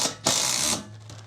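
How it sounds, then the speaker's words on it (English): Screw gun driving a self-tapping screw while mounting a mini split: a brief whirring motor burst of under a second, close and fairly loud, with a quieter mechanical rattle before and after. "Grab my screw gun."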